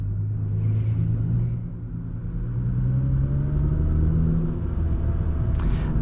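A car engine rumbles steadily at close range, with a low drone that shifts slightly in pitch as another car pulls up beside a Nissan GT-R at night, no talking.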